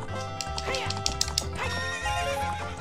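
Epona, the horse in Zelda: Ocarina of Time, gives a loud whinny over a rhythmic gallop of clip-clopping hooves, with game sounds layered around it.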